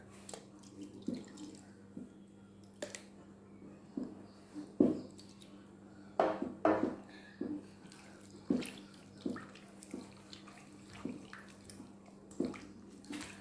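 Fish being mixed with water by hand for pempek Palembang dough, with repeated wet squelching, sloshing strokes in a steady rhythm, close and moderately loud, with a low hum underneath.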